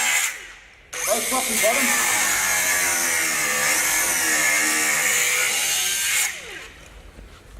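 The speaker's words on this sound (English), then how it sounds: "I'm now going to take my grinder. And I'm going to cut through the panel." Angle grinder cutting through a webbed panel, a loud sustained high-pitched whine starting abruptly and cutting off about five seconds later, with a voice speaking briefly over it.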